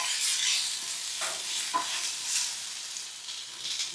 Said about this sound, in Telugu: టమాటా, పుదీనా, చింతపండు కొద్దిసేపు వేయించుకుందాం.